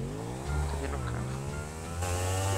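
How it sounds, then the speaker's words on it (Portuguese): Car approaching in GTA 5, a steady engine drone with rising and shifting revs that grows louder near the end, close and continuous with no talking. "Tá vindo o carro."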